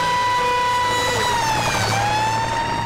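An emergency vehicle siren wails loudly and steadily, its pitch sweeping down and back up.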